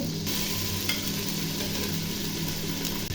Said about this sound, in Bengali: এই যে আদা রসুন বাটা এগুলো দিয়ে দেবো